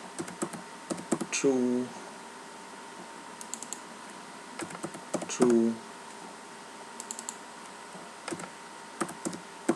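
Keyboard typing while writing Java code in NetBeans, a steady patter of light clicks throughout, with someone speaking over it.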